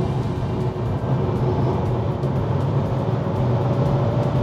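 Perodua QV-E electric car pulling away at full throttle, a steady loud rumble of tyres and road noise inside the cabin, building without engine note.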